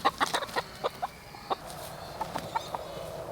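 Chickens cluck in a short burst of sharp, close calls at the start, then thin out to a few scattered clucks over a steady farmyard background.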